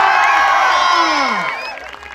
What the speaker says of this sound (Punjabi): ਤੁਹਾਡੀ ਤਾੜੀਆਂ ਇਟਸ ਨਾਟ ਗੁੱਡ ਇਨਫ